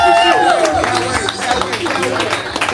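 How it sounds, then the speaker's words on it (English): Audience clapping at a live poetry show for the poet Anno, a short burst of crowd applause with voices and cheering mixed in. "Y'all clap it up for Anno,"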